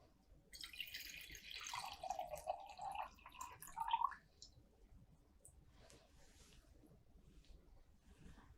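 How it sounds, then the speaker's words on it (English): Water poured into a lab beaker for a school density experiment, a faint splashing stream lasting a few seconds before stopping, followed by near silence. "I'm going to pour 250 milliliters of water into the beaker."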